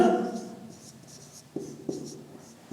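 A pen writes notes on paper, soft close scratching strokes with a few distinct taps, faint and fairly quiet, with a voice fading at the start.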